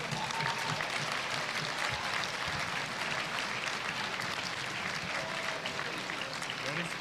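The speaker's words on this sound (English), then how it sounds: "Let's have a nice round of applause for all these nominees." Spectators at a basketball tournament championship round clap for the nominees in a steady, dense ripple of applause, mid-distance and even, with faint crowd chatter mixed beneath it.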